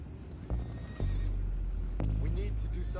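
Horses in Red Dead Redemption 2 whinny loudly and close, with a short neigh early and longer calls later, over hoof clatter and a low rumbling game background.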